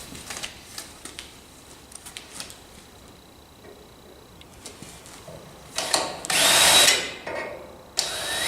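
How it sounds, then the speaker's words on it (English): A power drill bores holes into tin for a custom camera stand, with scattered light clicks and handling taps followed by a loud close whirring burst of drilling lasting about a second. "There we go, got a 4 holes drilled."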